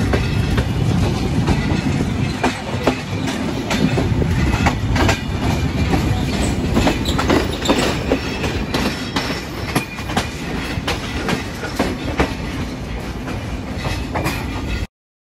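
The Dhumketu Express, on its Dhaka to Rajshahi run, pulls out of a junction toward Tangail with a steady, loud rumble and rhythmic wheel clatter heard from on board. No one speaks.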